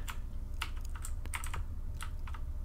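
Close, quiet clatter of a computer keyboard being typed on in irregular bursts of key strikes, some quick runs and short pauses, over a low background hum.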